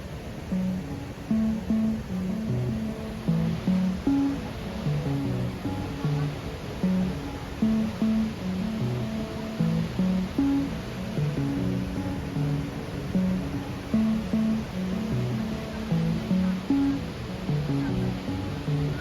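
Rushing water of the Saraswati River beneath Bhim Pul, the rock bridge at Mana, a steady dense roar of flowing water heard close, continuous and fairly loud throughout with no voices.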